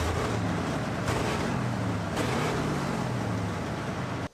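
A restored tank engine runs steadily, a loud rough low rumble with a throbbing pulse and a couple of brief bursts, continuing without pause until it cuts off abruptly at the end.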